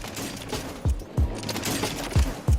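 Gunfire rings out at the firing range in the Warzone video game: four heavy, booming shots spaced unevenly over a steady background hum, with no voices.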